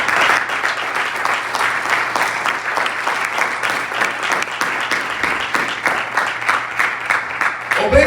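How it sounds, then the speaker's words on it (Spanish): Congregation in a Spanish-language church service clapping for Christ, a dense, sustained round of applause from many hands, steady and fairly loud throughout. "Denle palmas a Cristo."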